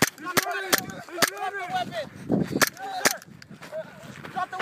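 Airsoft guns firing in sharp snappy shots, several spaced pops in quick succession at close range, with shouted voices mixed between the shots.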